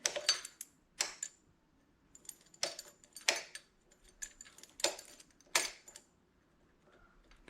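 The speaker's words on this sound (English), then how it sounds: "Let's put the keys in and see what happens." Metal keys jingle and clink in short, sharp bursts as they go into the ignition of a Kawasaki KLR 650 motorcycle. The jangles are close and fairly quiet, repeating in clusters with brief pauses between them.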